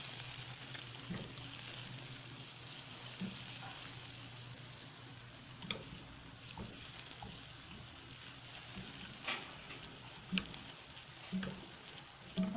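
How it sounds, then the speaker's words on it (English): Butter melting in a pan for a cheese dip gives a soft, steady sizzle with light crackles and occasional stirring scrapes throughout, fairly quiet and with no talking. "ilalagay na natin unang-una yung 1/4 na butter"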